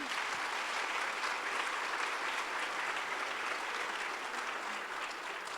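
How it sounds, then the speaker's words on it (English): A conference audience claps for a women in cybersecurity panel, a continuous even wash of applause from many hands at moderate volume that holds throughout without any talking. "I'll just ask the audience to give these lovely ladies a big round of applause for their time."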